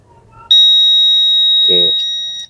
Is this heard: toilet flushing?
no